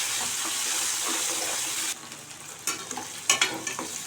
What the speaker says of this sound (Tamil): பருப்பு வெங்காயம் எல்லாம் நல்லா வதங்கட்டும்